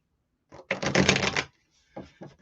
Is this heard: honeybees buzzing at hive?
no